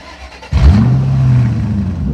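A 2017 Honda Accord engine abruptly revs up to high RPM during a wide-open-throttle run, a loud, steady drone that holds for about a second and a half after a quieter start.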